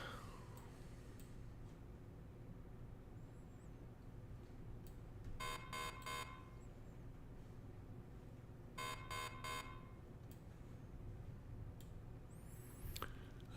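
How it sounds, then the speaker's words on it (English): Two short bursts of rapid electronic alert beeps, each about a second long, sound through a live severe weather broadcast, signalling watches or warnings, set against a low steady hum and otherwise near silence. "I hear those little horns beeping"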